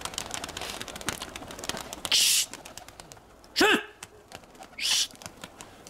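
Pigeons fly about a village yard, giving a clear falling coo in the middle while wing flutters and rustling bursts come and go around it, with a faint voice in the background.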